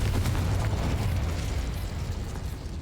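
A Confringo fire spell blast in Hogwarts Legacy, a loud, sustained roaring explosion that fills the whole moment with rumbling, crackling burst energy.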